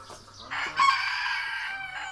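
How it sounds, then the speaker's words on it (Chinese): A rooster crows once at a rural family home in Heze, a single loud, drawn-out call rising after a brief start and holding steady for over a second, with no talk. "这个鸡在俺家好几年了。"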